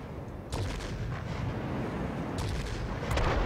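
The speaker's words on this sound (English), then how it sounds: "Gonna have bombs in a second. Bombs in a second." Bombs dropped from a fighter plane in World of Warplanes go off in a series of booming blasts, one sharp burst early and two more near the end, over steady engine rumble with no talking.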